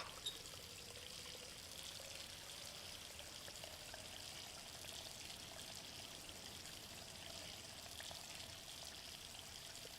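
Water pours steadily through a drain in the video game Riven, a continuous trickling, splashing stream that stays even and moderately close.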